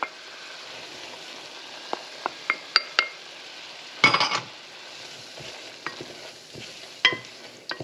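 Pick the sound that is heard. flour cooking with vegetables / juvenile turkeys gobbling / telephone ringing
flour cooking with vegetables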